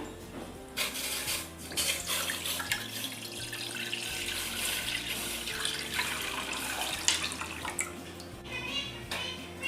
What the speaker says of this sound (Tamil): பாருங்கள், கொஞ்சம் தண்ணி சேர்த்துக்கணும்.